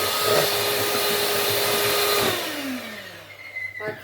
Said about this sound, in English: the next stage is to whisk your egg whites on their own until they form